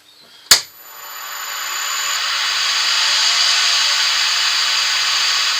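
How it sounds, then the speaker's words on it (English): A sharp knock comes first, then a wood lathe spins up and settles into a steady, loud whir as a bowl gouge begins cutting a segmented wooden bowl. The lathe runs slowly, close by, with no voices. "I'm going to leave the lathe running fairly slow to start with"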